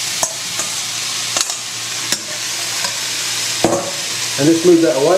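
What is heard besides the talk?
new potatoes sizzling as they go into the hot pan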